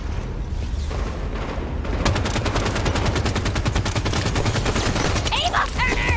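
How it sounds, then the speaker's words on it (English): Rapid battle rifle fire in the Halo 5 video game, loud dense bursts of close shots running continuously under busy in-game action. "Battle rifle."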